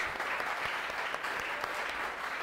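A church congregation claps for Jesus during a Sunday service, a continuous even wash of many hands that stays at one level for a couple of seconds, heard alone and slightly distant.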